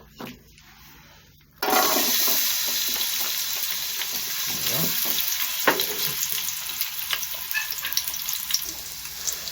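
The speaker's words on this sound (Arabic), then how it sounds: "صافي من بعد درنا ديك الثومه ديالنا تحمر واحد شي شويه" Garlic sizzling in olive oil in a pan, a steady loud frying hiss that starts abruptly as it hits the hot oil and continues with crackles and pops, no talking.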